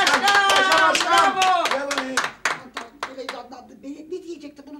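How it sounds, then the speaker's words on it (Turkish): A small group claps briskly for a speech in a Turkish comedy scene, quick uneven clapping over excited voices calling out, thinning and fading toward the end. "Alkışlıyoruz"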